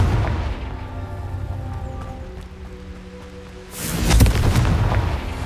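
A Confringo fire spell explodes in the game Hogwarts Legacy: a deep rumbling boom with a crackling burst partway through, over a steady low game soundscape, no talking.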